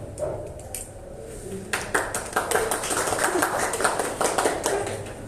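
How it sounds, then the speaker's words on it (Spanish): An audience rises to applaud a doctor. After a quieter start, a burst of many hands clapping breaks out and keeps going as a dense, steady patter until the end. "nos ponemos de pie para aplaudir al doctor Levy"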